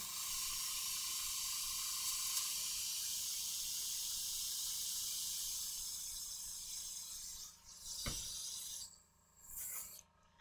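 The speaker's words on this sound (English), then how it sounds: "We may finally get to airbrush today." Airbrush spraying paint at a miniatures workbench, giving a steady close hiss that fades after several seconds and then returns in two short bursts.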